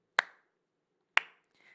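Two sharp single hand claps land about one second apart at a slow, steady metronome-like tempo. Each is close and crisp and decays quickly, with quiet between them and no voice.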